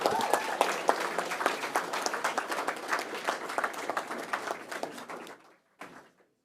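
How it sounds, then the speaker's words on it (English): A room at a school board meeting applauds athletes with a round of clapping, dense and steady for about five seconds before stopping abruptly, followed by a brief faint knock. "Let's give Lucas and all of our other athletes another round of applause."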